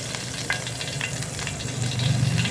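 Cumin seeds fry in hot oil at the start of cooking chicken with arum greens, giving a loud, steady sizzle with small crackles and pops and no talk.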